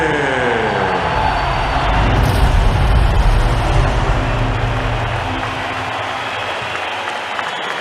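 Boxing arena crowd before the Usyk vs Dubois heavyweight title fight cheers and roars in a dense, sustained wash of noise that swells in the middle and eases slightly toward the end.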